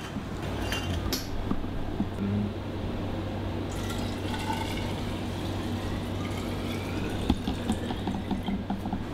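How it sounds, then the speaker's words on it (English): Water is poured into the reaction bottle of a water-powered generator, a steady trickling fill with occasional clinks of glass and plastic nearby. "We pour water into the reaction bottle, and here is the material to create the chemical reaction."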